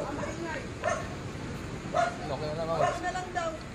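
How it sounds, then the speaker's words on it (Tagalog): A dog barks noisily at a beach resort, several sharp barks spaced over a few seconds, fairly close, mixed with people talking nearby. "Maingay ang aso."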